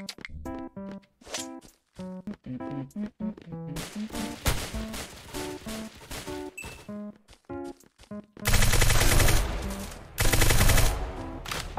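The Eclipse gun firing in a Roblox Valorant-style shooter game, rapid bursts of repeated gunshots in quick rhythmic volleys, building to dense, louder sustained automatic fire near the end, no voices.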